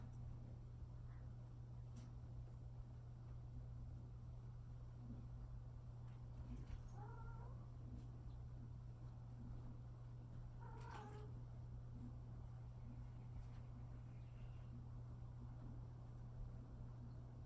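A couple of faint, plaintive cat meows from a cat shut in a carrier, over a steady low hum, spaced several seconds apart.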